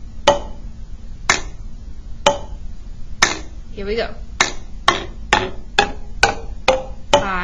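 Water-filled containers are struck in turn, about a dozen sharp ringing taps that step up in pitch as the water level changes. A voice speaks briefly near the start, then the taps continue alone.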